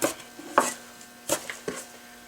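A knife cuts avocado into smaller pieces for guacamole on a board, with about five sharp, separate taps spread unevenly over a couple of seconds, close and clear with no talking.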